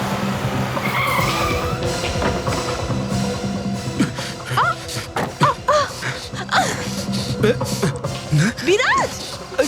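A car's tires skid and squeal to a stop in a tense crime-drama scene, with sharp rising screeches in the second half over engine noise, while people shout and gasp throughout.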